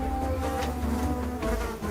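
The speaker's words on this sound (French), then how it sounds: "les mouches vertes" Green flies buzzing around an animal carcass make a dense, close, continuous droning hum with a few wingbeat tones wavering in pitch, heard alone.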